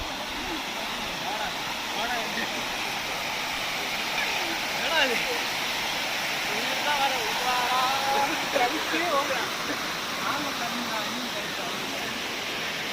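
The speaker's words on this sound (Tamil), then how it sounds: "தண்ணி அதிகமாக வந்துட்டுருக்கு" Steady rushing of water pouring down a mountain waterfall in the Western Ghats, a broad continuous roar with faint voices of people nearby mixed in.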